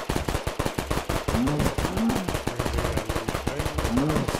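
Sentry turrets in the Feed the Beast modded game fire in a rapid, steady stream of sharp shots across the whole clip, with a few brief beeping tones mixed in; no one speaks.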